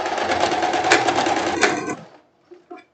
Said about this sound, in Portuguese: para prender já meu elástico, fazer uma costura aqui, né? Passar um retrocesso aqui